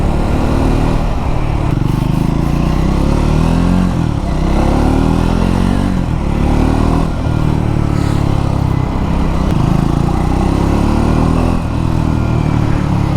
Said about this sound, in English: it makes a really nice little noise, this little engine.